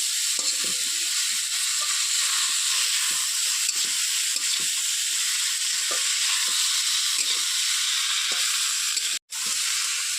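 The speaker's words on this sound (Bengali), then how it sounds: "আলুগুলো সুন্দর করে ভেজে তারপরে কপিগুলো দিয়ে দেবো" Potatoes and cabbage fry in a pan with a constant close sizzle and occasional light stirring taps, broken by a sudden brief silence near the end.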